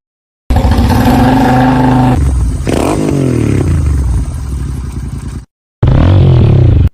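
A Hero Mavrick 440 motorcycle, loud and close, revs hard and accelerates with sweeping pitch rises and a clattering edge, then cuts to silence before a short final burst of revving.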